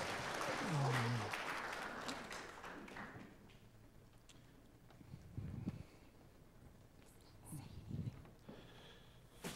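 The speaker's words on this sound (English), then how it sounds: "Can you give them a round of applause?" Applause from a crowd fills the opening seconds, then fades into scattered claps and light room noise with a few low thumps.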